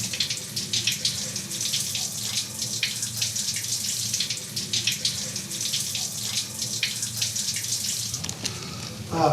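A hot shower runs in a shower cabin, a steady loud hiss of spraying water that holds evenly throughout, with slight shifts near the end.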